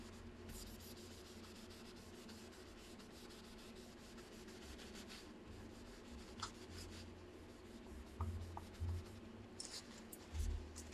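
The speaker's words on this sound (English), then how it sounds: "I generally will take, again, some of my same little cubes, rub some more color on there" Small foam cubes rubbing paint color onto a foam stamp, a steady close scratchy scrubbing that runs throughout with slight changes in pressure and a few brief pauses near the end, no talking.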